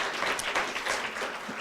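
An audience at a retirement celebration program applauds, a short burst of many hands clapping with slightly uneven swells, loud and close, with no voices over it.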